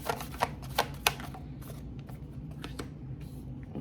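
Oracle cards being shuffled by hand, with a few sharp riffling snaps early on that settle into softer, continuous card rustling, close and fairly quiet.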